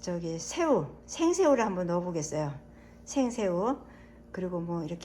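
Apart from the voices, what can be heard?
None of the usual background noises is heard.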